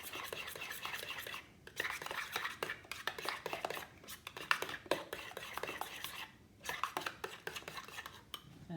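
Stirring chipotle sauce into a sweet potato mixture for sweet potato fries, with a utensil scraping and clinking against the bowl in quick, uneven bursts broken by brief pauses, close up.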